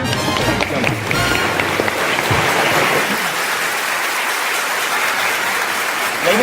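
Loud, dense applause rolls through the audience at an environmental heroes award gala, strong at first and thinning toward the end over about six seconds.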